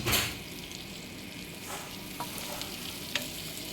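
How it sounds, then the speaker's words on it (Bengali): Onion frying in a pan with green chillies and salt, a steady close hiss of sizzling oil broken by a few sharp clicks of a spatula, with no talking. "পেঁয়াজটা আমার ভাজা ভাজা হয়ে এসছে, প্রায় লাল লাল হয়ে এসছে"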